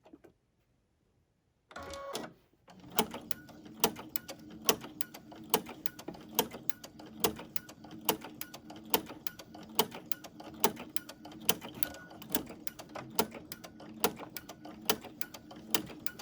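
An embroidery sewing machine stitches a kitchen towel, starting up after a brief quiet moment and then running in a fast, steady, close mechanical rhythm of repeated clicking thumps with a low motor hum underneath.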